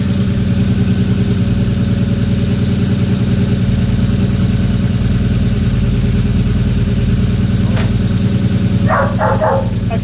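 A Cobra car engine idles with a loud, steady, rumbling low burble close by, while a dog barks a few times near the end.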